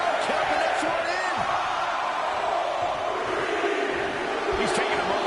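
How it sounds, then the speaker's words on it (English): Arena crowd noise from a Royal Rumble match in the WWE 2K24 video game, a steady loud roar with cheers and whoops rising throughout, heard alongside speech. "Listen to this crowd jumping that one in."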